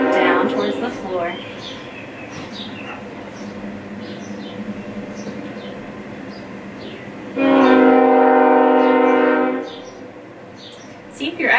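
A train rolls past outside, its rumble steady in the background, with a loud sustained horn blast about two seconds long partway through; a voice talks at moments during the passing.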